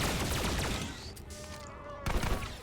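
Turrets destroyed by gunfire in the SWTOR video game, with dense rapid blaster fire that fades and then returns in a short burst, close and loud.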